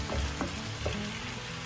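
Chicken being stirred in a pan of coconut-chilli gravy, a steady sizzle and frying hiss with a few soft scraping strokes from the spoon, close and moderately loud with no talking.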